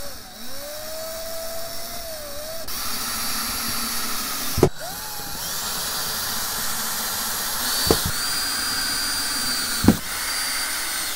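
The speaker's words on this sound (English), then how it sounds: "I'm just going to screw these in" A cordless drill driving screws whirs in several runs, its pitch rising and falling, with a few sharp clicks and knocks between bursts over a hissing background.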